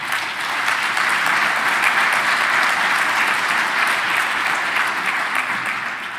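Sustained audience applause fills the room after a technical conference talk on interconnecting OpenStack deployments, steady and dense from start to finish with no voices over it.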